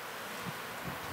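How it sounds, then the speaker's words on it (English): A dense, steady buzz of many honey bees filling a hive box close by, continuous and fairly loud with no voices. "this is basically a full box of bees"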